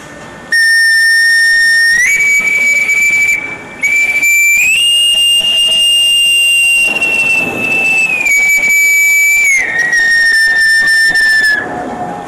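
Miniature ceramic Nazca ocarina whistles give high, pure tones that hold steady and then slide between pitches in a long, piercing series imitating bird calls, with brief pauses.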